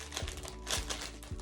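Dull scissors cut through plastic with three crunchy snips spaced roughly half a second apart, close and fairly quiet.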